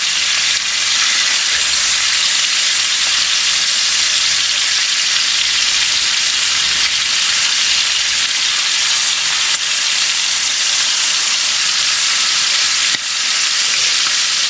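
Garlic butter chicken thighs frying on a stovetop, a loud, constant hissing sizzle with spattering crackles that stays steady and close for the whole stretch, with no voices.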